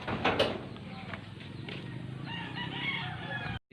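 A rooster crows close by while chickens cluck around it, with other fowl calling in the background.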